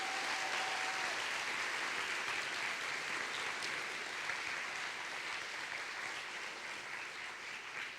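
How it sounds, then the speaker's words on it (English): A graduation ceremony audience claps together, giving a continuous, fairly distant wash of applause that stays even and fades slightly toward the end. "Now you can clap."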